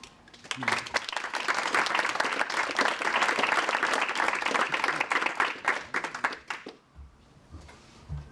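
Audience at an award ceremony breaks into sustained applause, a dense wash of many hands clapping for several seconds before tapering off to scattered claps, fairly distant in a hall.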